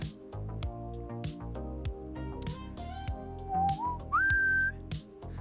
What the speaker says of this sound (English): I shouldn't whistle into the damn thing.